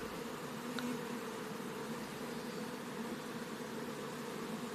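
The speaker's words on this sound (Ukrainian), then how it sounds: "Ось таким чином відбувається зальот рою до сім'ї." A honeybee swarm flies into a hive at a migratory apiary, making a steady, dense buzzing hum that stays continuous and fairly close throughout, with no voices.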